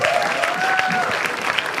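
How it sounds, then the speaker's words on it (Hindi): Loud, dense applause from a comedy show audience, a continuous wash of clapping with a faint tonal whine running through it. "भाई चलो एक बार जोरदार तालियां फॉर एमी वर्मा यार"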